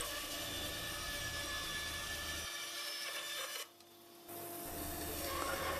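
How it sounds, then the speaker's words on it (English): A tenon saw cuts through wood for the handles of a wooden box lid. Steady rasping strokes sound close and continuous, briefly drop out, then resume. "And that's squaring off the ends now with my tenon saw. And cutting the two handles that go at the end of the lids."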